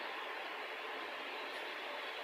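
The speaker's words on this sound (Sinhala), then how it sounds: "චූචූ චාල්ස් දැන් නම් එනවා" The monster train in the horror video game Choo-Choo Charles rumbles as a quiet, steady noise that holds evenly throughout, with no talking.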